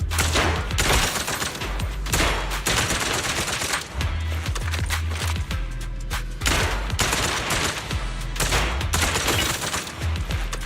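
Repeated gunshots in a video game ring out as rapid, loud bursts, a dense string of close, sharp shots with brief gaps between volleys, continuing from start to end with no voices.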